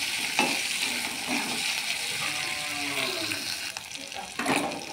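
Spice paste sizzles in a pan while being stirred, with close, steady frying hiss broken by repeated scraping stir strokes.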